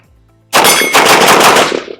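Gunfire rings out during a competition shooting transition drill, a loud, close burst of rapid shots following a brief tone.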